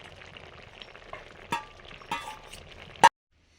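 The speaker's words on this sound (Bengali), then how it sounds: "টকে মাছগুলো দিয়ে দিলাম টকে।" Fish sizzling in a pot of sour curry in a Bengali home kitchen, a steady low frying hiss broken by three sharp clinks of utensils, the last one loudest.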